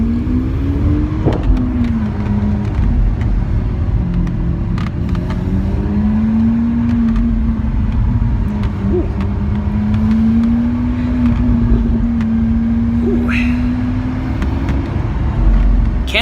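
Italian sports car engine humming steadily under load as the pedal is pressed in traffic, a sustained low drone rising and falling slightly in pitch throughout, close and loud.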